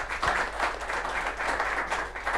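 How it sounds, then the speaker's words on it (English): Steady applause from a workshop audience, many hands clapping together in a dense, even wash that holds at a moderate level throughout. "please let's give a big round of applause to both"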